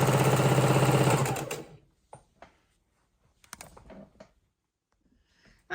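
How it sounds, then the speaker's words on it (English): A sewing machine runs loud and steady for about a second and a half, chain stitching quilt blocks for a four patch quilt, then stops abruptly, leaving a few faint handling clicks and rustles. "let's just keep chain stitching these and see what size quilt, since I did not count, what size quilt we come up with"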